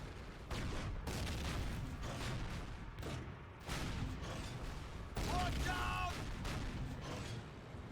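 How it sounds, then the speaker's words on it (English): Enemy tank cannons and gunfire in the Call of Duty: United Offensive Kursk battle, a dense run of booms and shots layered over rumbling armour, with a sharper burst near the end. "They're actually shooting at me now."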